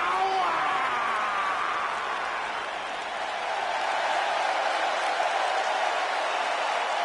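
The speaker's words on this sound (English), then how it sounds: "Clap for your longest reigning tag champs and feel the power." Steady, dense applause from a large arena crowd at a WWE SmackDown wrestling show in Albany, NY, with a broad wash of clapping and crowd noise holding at an even level throughout.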